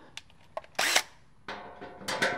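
A power drill whirs in a few short bursts while replacing a serpentine belt on a Toyota Tacoma, with brief clicks and handling noise between the runs.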